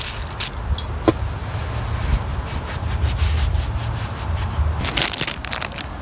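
A rag scrubs and wipes the engine surface of a Toyota 22R pickup before a mechanical fuel pump is fitted, giving close, uneven rubbing and scraping strokes with a few sharp clicks, no talking.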